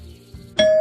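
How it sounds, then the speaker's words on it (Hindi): A doorbell at a house's front door gives a single bright ding-dong chime near the end, ringing out clearly after a moment of low, quiet room tone. "एक दिन संडे वाले दिन किसी अजनबी ने दरवाजे की घंटी बजाई।"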